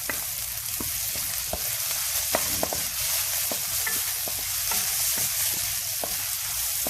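Pinakbit fries in a pan in an outdoor kitchen with a constant loud sizzle and regular clacks of a spatula stirring, close up and without talk.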